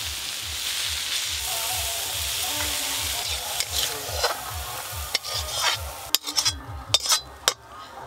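Red amaranth leaves stir-fried in a pan give a steady, close sizzle, with a spatula scraping and clinking sharply against the metal in the last few seconds.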